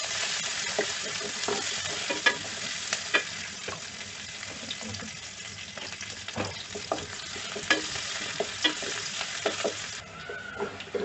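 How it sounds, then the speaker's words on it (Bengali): Chopped garlic, onion and green chillies frying in hot oil, a constant close sizzle broken by repeated scrapes and clicks of stirring, with no voices. "এখন কেটে রাখা সেই রসুন, পেঁয়াজ আর কেটে রাখা কাঁচামরিচ দিয়ে দিলাম। আর এখন লাল করে একটু ভেজে নেব।"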